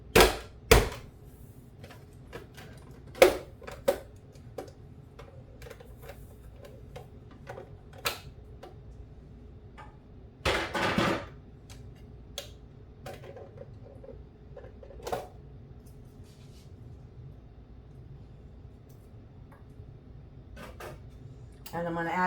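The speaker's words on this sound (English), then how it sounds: "I'm using my dicer, and I'm going to dice up a half an onion" Half an onion is chopped with a manual dicer in a home kitchen, making a few sharp, scattered clacks and thumps of the plunging blade, close and moderately loud, separated by quiet pauses.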